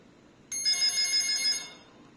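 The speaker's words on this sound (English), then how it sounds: "This ringer, and when the phone is ringer, also this will have the light, LED light." A wall-mounted hotel landline telephone rings with a bright electronic ringer. One burst of trilling tone lasts about a second and then fades out in a quiet room.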